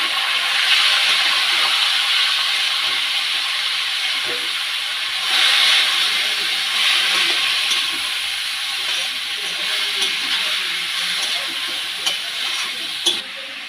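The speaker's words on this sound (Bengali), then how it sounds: "সব জিনিসগুলো আমি একসাথে ভেজে নিচ্ছি। এবার কেটে রাখা চাল কুমড়ো দিয়ে দিলাম।" Ash gourd frying with spices in a pan, a loud continuous sizzle and hiss with steady steam noise, with occasional stirring scrapes and knocks.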